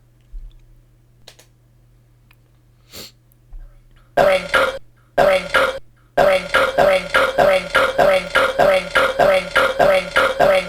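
Belching sound effects from the retro video game Xmas Chortles: after a quiet stretch come a couple of loud burps, then a rapid, rhythmic run of repeated belches that continues to the end.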